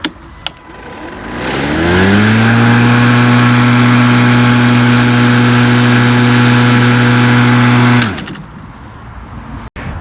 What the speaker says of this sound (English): To start the mower, make sure you've got your batteries secure. Put the key in. And push the button.